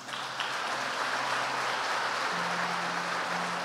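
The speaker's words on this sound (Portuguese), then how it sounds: "Dê um aplauso a Ele." Congregation applauding during a church celebration service, dense sustained clapping filling the room, with a held low tone, likely instruments, sounding beneath it.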